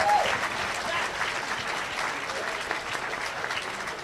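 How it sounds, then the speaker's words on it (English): A conference audience gives musicians a sustained round of applause, fairly soft and steady in a large hall, with faint voices and a brief whistle mixed into the clapping. "Let's give them another nice round of applause."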